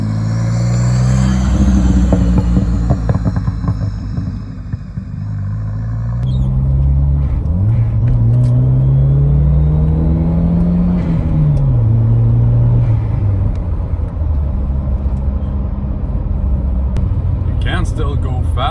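A 1990s Volvo 940 Turbo engine rumbles and revs up and down in rising sweeps. A couple of faint, tame pops come near the end, and the engine note stays steady and close throughout.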